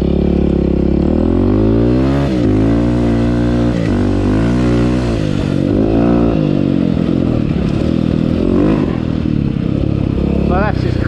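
A dirt bike ridden around a motocross track, its engine loud and close, revving and shifting pitch repeatedly through the ride amid clattering and scraping from the machine.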